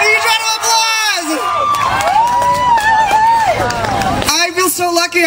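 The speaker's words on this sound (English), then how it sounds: "Round of applause!" A crowd at an LGBT Heritage Month event at LA City Hall cheers and shouts, loud whoops and excited voices rising over steady applause-like noise throughout.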